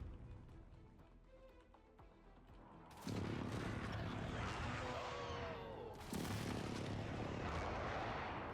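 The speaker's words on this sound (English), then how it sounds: "Enemy precision airstrike." Two sudden heavy blasts from an enemy precision airstrike in Call of Duty Warzone, each bursting in loudly and rolling on as a dense roar, after a quieter stretch of game ambience.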